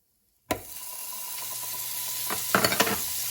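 Food frying in butter in a hot pan gives a steady close sizzle that starts abruptly and continues throughout, with a few louder crackles and spatters toward the end.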